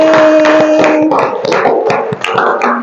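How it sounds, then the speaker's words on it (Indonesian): Classroom of students applauding a group after its presentation, a short burst of brisk, close, overlapping hand claps with no talk. "Tepuk tangan untuk kelompok 1."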